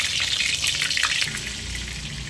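Potatoes hit hot oil in a pan, giving a steady, close watery hiss and gush that runs without a break, with a faint low rumble underneath and no talk.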